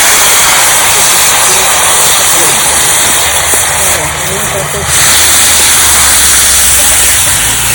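Spiced vegetables go into hot oil tempered with black cumin, giving a loud dense hiss and crackle of frying close by that dips briefly before surging back, with someone talking over it.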